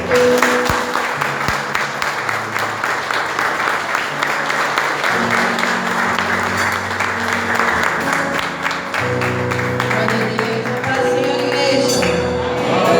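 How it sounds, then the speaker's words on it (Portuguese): A church congregation claps in praise during a worship service over sustained music with organ or keyboard chords underneath, the clapping dense and steady for several seconds and fairly loud. "As palmas ao Senhor."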